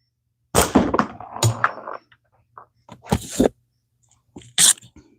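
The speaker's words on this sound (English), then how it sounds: "Shooting 8mm steel shot." Slingshot shots of 8mm steel shot from an Axiom Pro X by Simpleshot: several sharp, close snaps and thwacks in separate bursts, with a brief clatter after the first, and quiet gaps between them.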